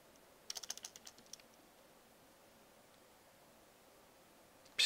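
Quick bursts of keystrokes on a computer keyboard, about a dozen close, crisp taps in a rapid run, then a lone tap and a long quiet stretch before a sharp final click.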